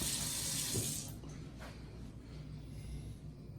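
Water runs from a tap for about a second while dumpling dough for ackee and saltfish stuffed dumplings is wetted, followed by quiet kitchen handling.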